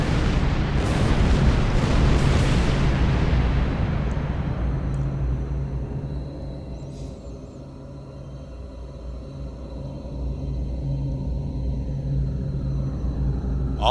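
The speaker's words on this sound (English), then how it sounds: "they will blow you up and they will blow themselves up by shooting the Metreon gas" Metreon gas clouds exploding in the space game Star Trek Online, a loud booming blast that rolls into a long, fading rumble, followed by a lower steady background hum.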